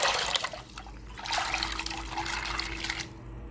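Black-eyed peas being added to a pot of water in a kitchen, a wet sloshing and splashing pour with trickling water, moderately close and continuous, with no talking.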